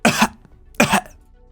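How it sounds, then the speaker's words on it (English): A character in the video game Arknights gives two harsh coughs, close and loud, separated by a short pause. "Even more coughing."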